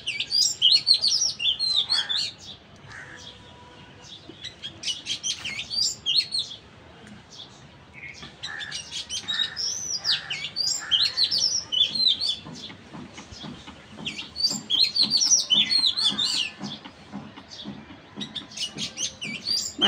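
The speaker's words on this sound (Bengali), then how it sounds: "পাখির কিচিরমিচির শব্দ," Many small birds chirp and twitter continuously in a rooftop garden among an old mango tree and climbing bitter gourd and yardlong bean vines, calls overlapping in lively bursts with short lulls, fairly close and clear.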